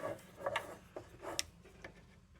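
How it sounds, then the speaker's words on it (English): Several light, soft taps from a soft hammer on the tabs of an Embury Little Air Pilot No. 1 lantern during restoration, at an uneven pace, quiet and close, with small knocks in between. "Give that little taparoo with the soft hammer"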